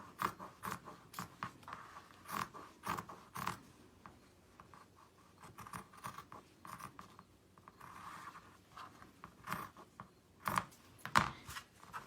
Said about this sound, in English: Cut all the way around.